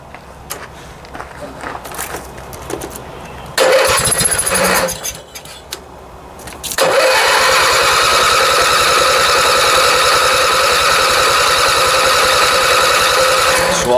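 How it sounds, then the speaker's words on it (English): Kohler Courage twin lawn engine cranking over with the choke closed while its fuel pump fills the carburetor; a quieter stretch, then a loud, steady, rapid mechanical churning that runs on unbroken and close for the last half. "the fuel pump's going to have to work for a little while before it fills up the carburetor and runs"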